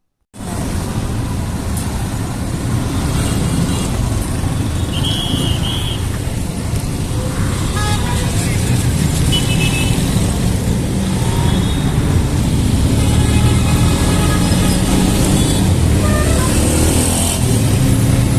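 Dense traffic jam on a busy road in Kohat at school closing time on a Friday, with cars and motorcycles idling and creeping past close by, a constant loud engine drone that swells slightly toward the end.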